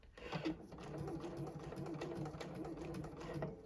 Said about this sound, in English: When I press that heel function, that needle will go up and down in place, locking my stitch